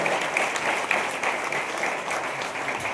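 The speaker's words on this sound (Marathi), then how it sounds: "सर्वांनी सरांसाठी एकदा जोरदार टाळ्या वाजायच्या" Audience applauding at a Seva Sahayog community event, a loud, dense burst of clapping close by that stays steady throughout.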